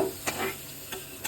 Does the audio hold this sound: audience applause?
no